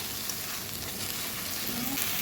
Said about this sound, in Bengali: ভালোভাবে সমস্ত মশলাটাকে কষিয়ে নেব